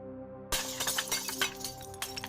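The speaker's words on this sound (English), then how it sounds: "when the dishes shattered" Dishes shatter loudly in a kitchen, a sharp crash followed by a scatter of breaking and tinkling glass and ceramic fragments over about two seconds, with no talking.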